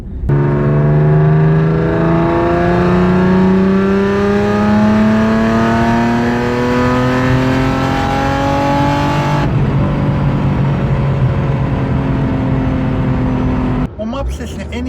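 A car engine revs hard and loud with a MAP-sensor sound, its pitch climbing steadily, then drops back and keeps droning before a brief cut near the end.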